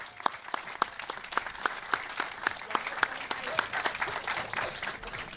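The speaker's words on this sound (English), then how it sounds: "Let's give him a big round of applause, please." Outdoor crowd at the Alfonso Flores All-Star Park grand opening ceremony in Hidalgo County gives a round of applause, with several close, sharp individual claps standing out over a thinner spread of clapping, and faint voices murmuring underneath.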